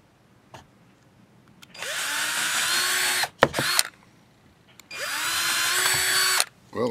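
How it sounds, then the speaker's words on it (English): A power drill bores a hole for clockworks in a homemade clock, two loud sustained whining bursts of about one and a half seconds each, separated by brief handling clatter. "I know I was being a little lazy here by using my power drill"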